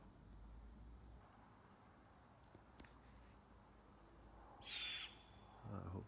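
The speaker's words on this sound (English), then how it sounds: "It appears to be an owl." An owl perched atop a tree gives two brief, faint squawking calls near the end, heard at a distance over steady outdoor hiss.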